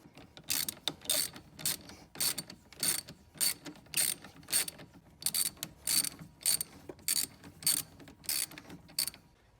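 Ratchet wrench clicking in quick bursts while tightening the battery terminals on a Ford Escape, a dense run of sharp, close metallic ratcheting strokes with brief pauses between them.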